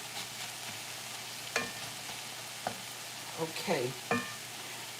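Ground turkey and vegetables frying in a skillet, a soft continuous sizzle broken by several sharp scraping clanks of a utensil stirring against the pan; a voice speaks briefly.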